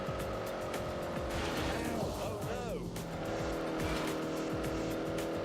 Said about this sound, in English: Nice little growl from the engine.